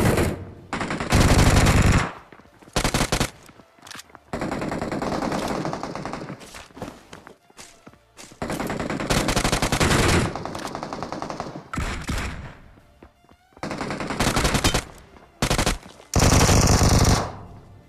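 Automatic and single gunfire bursts in the battle royale video game PUBG / BGMI, loud repeated volleys with short pauses between them, no talking over the shooting.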